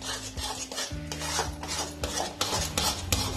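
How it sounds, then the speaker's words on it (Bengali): A spoon scrapes and stirs a spice mix into pea kachori filling in a pan, with repeated gritty rasps and clinks of metal on metal, close and steady. "যে মশলাটা বানিয়েছিলাম সেই মশলাটা পুরের মধ্যে দিয়ে দিচ্ছি। দিয়ে ভালো করে মিশিয়ে নিতে হবে।"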